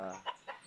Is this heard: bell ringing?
no